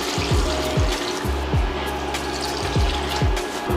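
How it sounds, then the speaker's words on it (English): Water is poured into a cooking pot of sauteed vegetables and rinsed red beans for Louisiana-style red beans and rice, a steady close splashing pour with a faint repeating low knock underneath. "Now we're gonna add our beans, and then we're gonna add our water."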